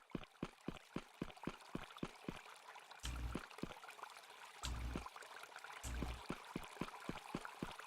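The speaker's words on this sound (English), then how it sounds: "we're listening for that water" Video game audio from Midsummer Night: water rushes and hisses steadily in the background while sharp, evenly spaced footsteps or taps click along over it.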